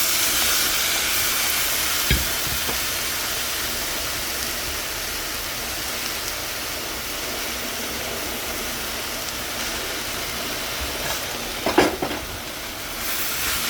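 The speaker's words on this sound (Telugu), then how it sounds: "బాగా కలిపేస్తున్నామండి." Cabbage, carrot and beans curry stirred and frying in a pan, a steady close hiss and sizzle throughout with a few soft scraping knocks of a spoon, no one talking over it.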